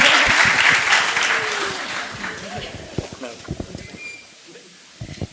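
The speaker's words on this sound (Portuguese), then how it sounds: "Uma grande salva de palmas." A summit audience welcomes a presenter to an inclusive gaming panel with a burst of loud applause that fades out over a few seconds, leaving scattered claps, footsteps and a voice near the end.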